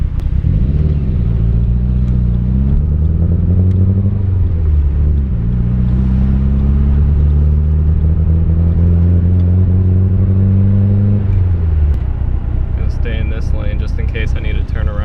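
Nissan 240SX with a built SR20DET engine on a break-in drive, a loud steady engine drone that rises and falls with gear changes and moderate revs, heard from inside the car, with a brief higher whine near the end.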